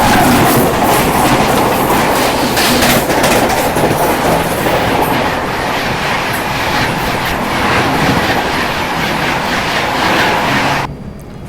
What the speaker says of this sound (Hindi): सबसे पहले ये पटना राजधानी हमसे क्रॉस हुई